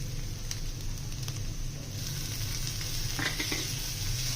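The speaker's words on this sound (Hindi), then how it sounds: "इसको बस हल्का सा हमने सौते करना है" Chicken sizzles in a pan as it is sautéed with ginger garlic paste, with a steady close frying hiss and a few soft stirring scrapes, no voices.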